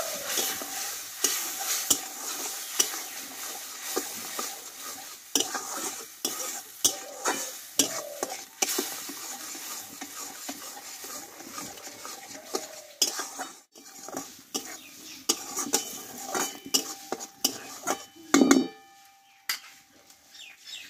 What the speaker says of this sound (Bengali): দিয়ে মশলাটা ভালোভাবে কষিয়ে নেব।